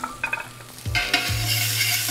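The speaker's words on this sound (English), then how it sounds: "So you can hear that sizzling." Vegetables sizzle and crackle in a hot pan, with stirring and scraping sounds at the beginning, then a steady frying hiss.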